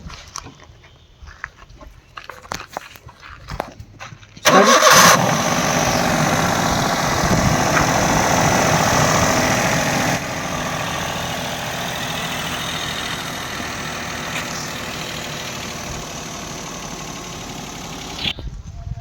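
A 2009 Maruti Suzuki A-Star ZXi petrol engine cranks and catches near the microphone, then settles into a steady, loud idle. The idle drops slightly partway through and keeps running until the end.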